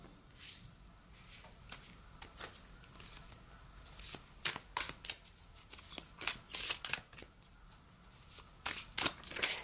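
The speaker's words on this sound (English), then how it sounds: "These cards are so big, they're hard to shuffle for me." Oversized cards are shuffled by hand in a run of crisp, flapping riffles that grow louder and quicker toward the end, close to the microphone.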